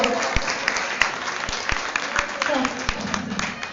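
Audience at a Jain poetry recitation gathering claps under continuous talk, scattered claps and a low crowd murmur running beneath a speaking voice.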